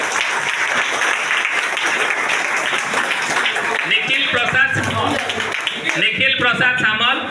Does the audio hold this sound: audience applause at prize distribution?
yes